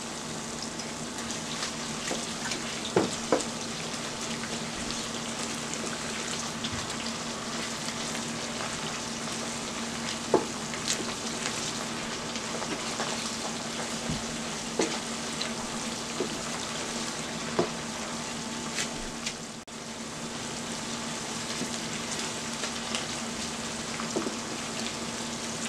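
Split peas and gravy simmering in a pot with fresh parsley stirred in, a steady soft sizzle and bubbling held throughout, broken by occasional faint clicks and scrapes of the spoon, close and moderately quiet.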